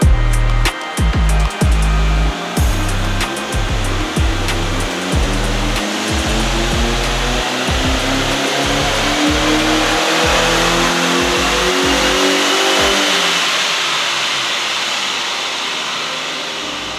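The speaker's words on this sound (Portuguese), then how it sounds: "a gente vai fazer então a medição de potência na roda do carro" A car engine revs hard on a chassis dynamometer at a racing team's dyno, first blipped in rapid bursts, then climbing in one long sustained pull to a loud, high-revving whine before easing off.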